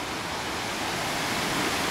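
Loud, steady rushing water roars without a break, a dense continuous wash of sound like a mountain stream pouring beneath a stone bridge at night in the Alps.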